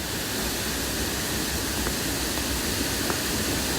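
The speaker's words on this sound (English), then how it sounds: "the water flows from the stream above over some flat rocks down about a 15 to 20 foot drop into the whirlpool below" Goit Falls pours from a stream over flat rocks, dropping fifteen to twenty feet into a whirlpool, making a loud, constant broadband rush of falling water that fills everything with no pauses.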